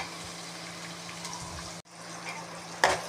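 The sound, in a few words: onions sautéing in pan for pepper chicken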